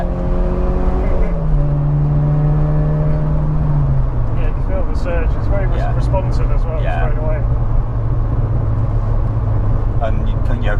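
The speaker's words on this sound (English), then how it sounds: "It's a proper rally car noise." A 1983 VW Golf GTI accelerating on the road, its engine note climbing steadily through the gears with shifts heard from inside the car, loud and continuous while people talk over it.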